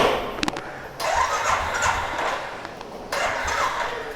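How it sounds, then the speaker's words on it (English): A motorbike engine starts up with a sharp mechanical burst, then settles into a loud, steady running roar close by, with a second surge partway through; no one talks. "So I'll start my bike now."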